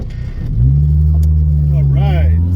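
Ford Mustang SVO on a test drive after an exhaust leak repair, its engine idling then rising into a steady loud drone as the car pulls away, with a brief voice near the end.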